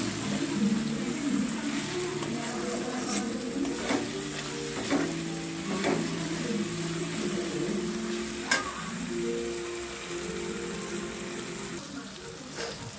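Tomato and green chilli frying in a pan give a steady close sizzle, with occasional sharp clinks and scrapes from stirring over the hiss.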